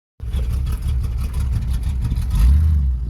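A car engine starts up and rumbles steadily close by, swelling louder as it revs and pulls away, with no voices over it.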